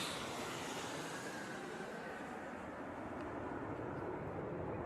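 Stratolaunch, the giant twin-fuselage aircraft, roars steadily overhead on a low approach, a broad continuous engine rumble with no speech.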